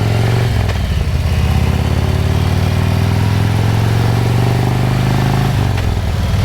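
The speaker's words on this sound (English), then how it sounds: "They discovered Harley Davidson because of the heart and soul of that motor." A Harley-Davidson motorcycle engine runs steadily and loudly throughout, a deep, throbbing rumble with a continuous low pulse and mechanical clatter, close and alone with no talk.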